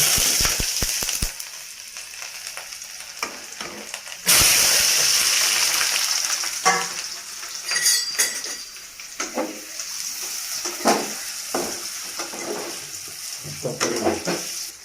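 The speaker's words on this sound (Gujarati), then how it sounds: "તેલ ગરમ થઈ ગયું છે ને આપણે પનીર ફ્રાય કરવી છે" Paneer drops into hot oil and sets off a loud, continuous sizzle and hiss, preceded by a few clanks and followed by scattered clatter, with a person talking intermittently.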